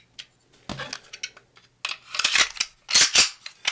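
An HK USP pistol is put back together, its barrel and recoil spring dropped in: a series of sharp metallic clicks and clacks up close, sparse at first, then a denser burst of handling noise.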